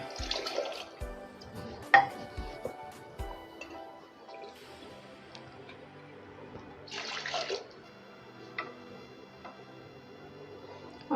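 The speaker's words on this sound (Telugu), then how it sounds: "ఇప్పుడు ఇందులో 6 కప్పుల నీళ్ళు పోయాలి" Water is poured into a pot of toasted little millet, heard as intermittent splashing and trickling bursts with drips and light metallic clinks, close and fairly quiet, without talk.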